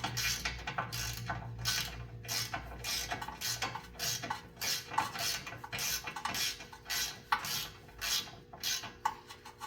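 A ratcheting socket wrench tightens a 15 mm bolt on the front axle of a 2019 Chevy Trax AWD, producing rapid, repeated clicking bursts in a steady back-and-forth rhythm, close up, with no speech.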